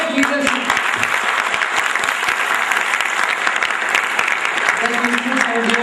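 An audience at an HR summit breaks into loud, sustained applause, a dense steady clatter of many hands clapping that fills the room for several seconds.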